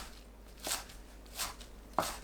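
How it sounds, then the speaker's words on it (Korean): Knife slicing perilla leaves into thin strips on a cutting board, three soft, spaced cuts, quiet and close, the last a little sharper. "깻잎은 줄기 자르고 반 잘라 1cm 간격으로 채 썰어줍니다."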